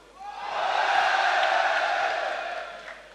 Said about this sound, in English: That's the cheer